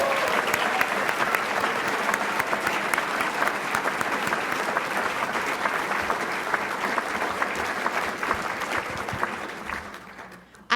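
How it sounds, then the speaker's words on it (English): Sustained, dense applause from a dinner audience at a member recognition celebration for award recipients, steady and full for about ten seconds before tapering off at the end. "Can we just one more time give a round of applause for all of our award recipients tonight?"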